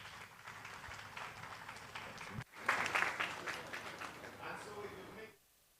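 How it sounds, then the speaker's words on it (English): Applause from the audience at an awards ceremony, steady clapping that swells louder midway with scattered cheers, then cuts off abruptly near the end. "They deserve another round of applause."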